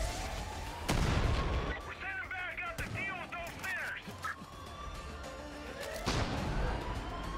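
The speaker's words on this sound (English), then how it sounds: "Oh crap, that's a freaking mortar." Mortar fire in Far Cry 5, several heavy booming impacts with cracking bursts spread across the span, some near and loud, mixed with scattered gunfire and game noise.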